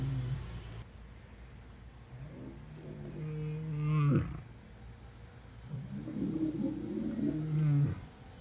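A lion lets out two drawn-out, moaning groans a few seconds apart, wavering in pitch, fairly faint against the background.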